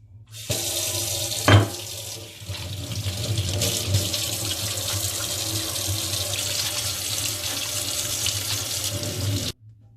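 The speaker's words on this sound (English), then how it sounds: "First, we're going to wash our hands." A kitchen tap runs steadily while hands are washed under it before baking a cake, a continuous close hiss of water splashing into the sink with a brief knock early on, then cut off abruptly.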